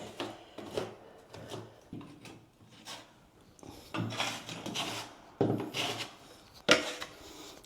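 Drywall joint compound being scooped and spread over patched holes, screw pops and cracks, heard as close, irregular scraping and rubbing strokes of a knife on the wall, with short pauses between passes.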